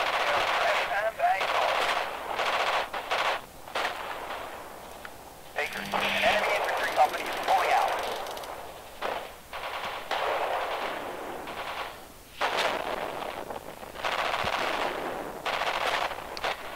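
Radio-filtered gunfire and machine-gun bursts from the World War II strategy game Radio General, crackling through a radio channel under steady talk, with brief quieter gaps between volleys.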